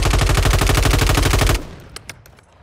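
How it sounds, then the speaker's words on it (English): Rapid automatic gunfire in the video game Warzone 2.0, a loud sustained burst of evenly spaced shots for about a second and a half, then a drop to quieter game ambience with a couple of faint clicks. "I'm just spamming my bullets."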